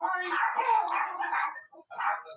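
A pet dog vocalizes up close with throaty growling and whining sounds, a long rumbling stretch followed by a short pause and one more brief growl.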